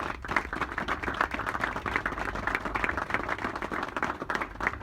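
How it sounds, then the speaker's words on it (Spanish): An outdoor audience at the dissidents' courtyard claps in steady, continuous applause with a dense patter of many hands, moderately loud and unbroken throughout. "Démosle un abrazo y un aplauso a Juan Berli y a Daisy."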